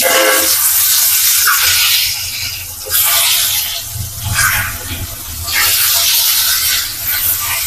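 Quail eggs fry in a hot pan with salt and turmeric, giving a loud, steady spitting sizzle that swells and eases in waves throughout.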